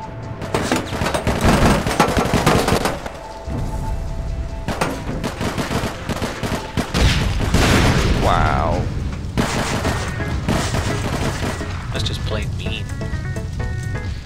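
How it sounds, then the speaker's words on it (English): Rapid gunfire and explosions from the online shooter game APB Reloaded, loud dense bursts and booms mixed with game noise, with a player talking over the action. "I'm being shot at, I think."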